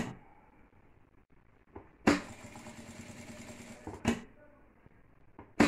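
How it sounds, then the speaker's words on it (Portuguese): A domestic sewing machine stitches along a fabric edge in a home atelier, two close bursts of rapid whirring stitching separated by quiet pauses, with faint handling sounds between. "Vai costurando na beiradinha primeiro."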